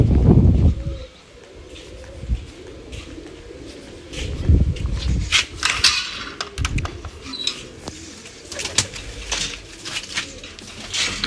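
Paired loft pigeons, a red cock and his hen, coo and shuffle close by, with bursts of wing flapping and light metallic clinks scattered throughout.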